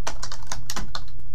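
Rapid typing on a computer keyboard, a close, crisp run of key clicks in an irregular burst lasting just over a second, with no talk.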